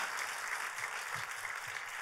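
Applause from a church congregation, a dense patter of clapping heard at a moderate distance, steady throughout.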